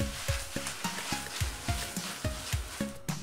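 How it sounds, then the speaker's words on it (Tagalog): Zucchini and tuna sauce sizzles in a pan under steady stirring, with a repeated rhythmic scrape and clack of the utensil against the pan over a soft frying hiss, close and clear. "Stir well."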